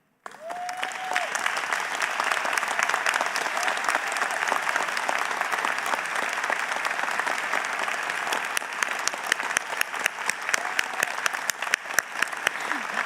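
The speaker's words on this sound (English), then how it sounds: "can you please stand up and receive a big round of applause?" Convocation audience in an arena gives a sustained round of applause for college staff, dense steady clapping that grows more distinct and sharper toward the end.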